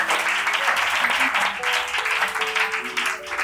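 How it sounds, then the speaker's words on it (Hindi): An audience at a training program event claps loudly and steadily throughout, with a voice speaking over the applause. "जोरदार ताली पर इफ्रा मैडम के लिए।"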